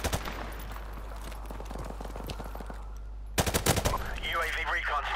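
Submachine gun in Call of Duty 4: Modern Warfare Remastered, rapid bursts of automatic fire, loud and close, with a short pause before a second dense burst and an announcer-like voice in the game.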